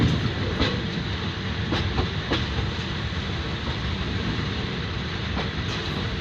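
Thai express train no. 52 hauling former JR West sleeper cars rolls past at Sala Phara station in Lampang, a steady loud rumble with repeated clickety-clack wheel beats over rail joints throughout.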